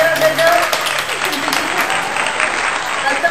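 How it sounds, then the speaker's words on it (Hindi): Audience applause with clapping and crowd noise at a glass tower challenge contest, steady and fairly loud throughout, with voices mixed in. "सब लोग ताली जरा दे दो।"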